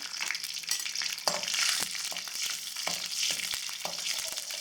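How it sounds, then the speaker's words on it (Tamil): Garlic fries in hot oil with spluttered mustard seeds and curry leaves for a brinjal poriyal, a continuous bright crackle and sizzle with occasional spoon stirs, close and alone. "இது கொஞ்சம் பொரிஞ்சு அடங்கினதுக்கு அப்புறமா நம்ம பூண்டு சேர்த்துட்டோம்."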